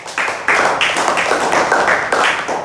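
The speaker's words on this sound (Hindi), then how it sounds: "आप अपने आप के लिए ताली बजा लो" Hands clap in a steady, fairly quick rhythm of about a dozen sharp, close claps with no talking.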